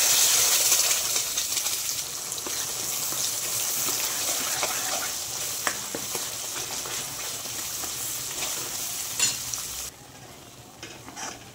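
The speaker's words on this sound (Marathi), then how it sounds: "तेल तापायला ठेवलं होता पण त्यामध्ये आता मसाला टाकून घेऊया." Masala paste frying in hot oil for a fish curry, a steady bright sizzle with stirring scrapes running close and continuous, then dropping abruptly quieter near the end.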